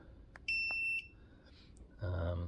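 A sharp electronic beep from a dog training collar holds for about half a second after a few clicks, then a burst of rustling and a low hum; no voices.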